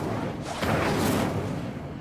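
An Incendio fire spell cast in Hogwarts Legacy: a loud, rushing burst of flame that swells briefly mid-way and holds a dense, roaring whoosh to the end.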